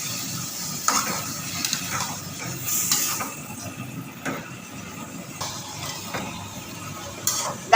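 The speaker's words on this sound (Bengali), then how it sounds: "হ্যাঁ, এই মশলাটাও কষানো হবে।" Spice masala being sautéed and stirred in a pan while cooking jackfruit kalia, with a steady low sizzle, scattered scrapes and clinks of a spoon, and a louder knock near the end.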